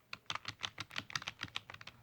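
Fingers typing on a JellyComb portable light-up keyboard, a quick close run of crisp plastic key clicks, about a dozen taps in an uneven rhythm.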